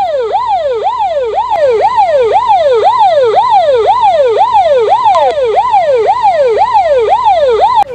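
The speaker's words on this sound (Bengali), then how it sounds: "সেই কখন থেকে অ্যাম্বুলেন্সে বসে আছি, আর এইদিকে তো সরস্বতীর ব্যথা আরো বাড়ছে।" An ambulance siren wails loudly and close by in a rapid, repeating rising-and-falling sweep that holds steady throughout, with no voices.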